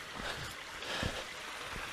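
Dean Black Brook, a small, shallow moorland river near White Coppice, gives a soft continuous rush and trickle of flowing water, steady and fairly faint with a few light splashes.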